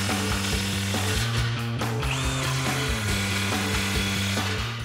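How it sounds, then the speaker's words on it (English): An impact gun fitted with a 15 mm socket drives exhaust bolts tight while installing an MBRP axle-back exhaust on a 2018 Mustang GT, giving loud, close rattling hammer bursts in a steady rhythm with short breaks, and no talking. "I'm gonna tighten these up first before I put the tips on. I have a 15 millimeter socket on my impact gun."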